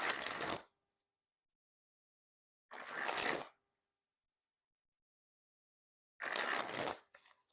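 Eames Starburst playing cards sprung from hand to hand in a flourish, three separate fluttering bursts of rapid card riffles, each under a second long, with silence between them.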